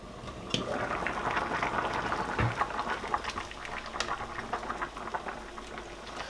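Sweet potato and butternut squash boil in a covered pot, a steady bubbling patter with soft irregular pops running throughout at moderate, close range, with no talking.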